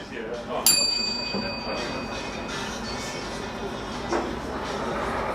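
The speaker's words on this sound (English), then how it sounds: "I've got a bell! Can you hear it? My bell!" A single bell strikes once with a bright ringing tone that decays over a couple of seconds, over steady rumbling background noise and a faint later clink.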